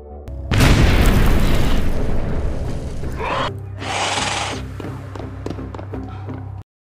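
A grenade blast in a zombie film erupts as a loud, close boom with a long roaring decay, followed by a second burst of crackling debris and a lingering low rumble before cutting off.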